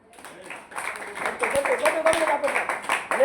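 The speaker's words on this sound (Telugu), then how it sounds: "కొట్టు గట్టిగా చప్పట్లో" A church congregation at a Sunday worship service claps loudly in a steady, dense rhythm that builds over a few seconds, with voices and music mixed underneath.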